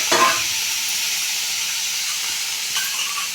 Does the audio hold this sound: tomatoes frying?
yes